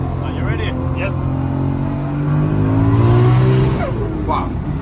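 A Toyota Supra MK4 sports car engine revs up loudly and falls back, with rising and falling engine pitch, while people talk and exclaim over it.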